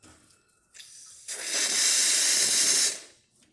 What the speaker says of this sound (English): we've got steam, nice strong steam